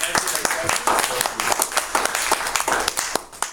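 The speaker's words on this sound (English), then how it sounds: "let's give them a big round of applause and thank our speakers for answering our questions" An audience at a 2014 Toyota Corolla presentation in a Miami hotel gives a lively round of applause for the speakers, with sharp, close hand claps layered thickly throughout.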